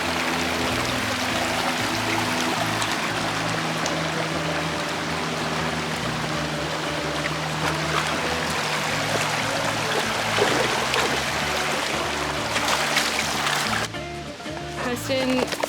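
Water rushes steadily at the base of a waterfall on a hiking trail, a continuous loud broadband roar filling the whole stretch, with a shift near the end and faint voices blended into the churn.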